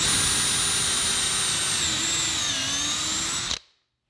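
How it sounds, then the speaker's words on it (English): A cordless drill with a countersink bit whines continuously at high speed, its pitch dipping slightly mid-run as it bites, then stops abruptly into silence. "A pre-drill and countersink bit will drill a small hole"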